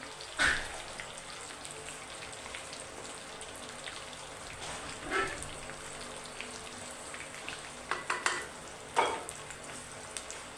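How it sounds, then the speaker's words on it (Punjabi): Dry fruits roast in ghee in a pan with a soft, continuous crackling sizzle, broken by a few sharper scraping and stirring knocks near the start, midway and toward the end, with no talking. "ਸਿਰਫ ਇਹਨਾਂ ਨੂੰ ਥੋੜਾ ਜਿਹਾ ਰੋਸਟ ਕਰਨਾ ਘਿਓ ਦੇ ਵਿੱਚ"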